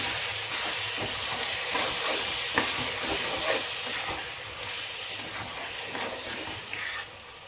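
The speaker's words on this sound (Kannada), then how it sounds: "red chilli powder one table ಸ್ಪೂನಷ್ಟು ಈಗ ಎಲ್ಲದನ್ನು ನೀಟಾಗಿ ಮಿಕ್ಸ್ ಮಾಡ್ಕೊಳ್ಳೋಣ" Potato kurma with red chili powder is stirred in a pan, a steady sizzling hiss with soft scraping from the spoon, continuous and close with no talking.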